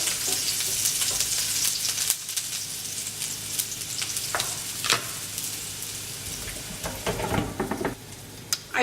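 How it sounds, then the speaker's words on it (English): Chopped onion frying in oil in a pan, a loud, continuous close-up sizzle with occasional sharper crackles and stirring scrapes, no voices. "I have 1 small chopped onion that I'm going to be adding to my oil, and I'm going to cook this until it's actually golden brown"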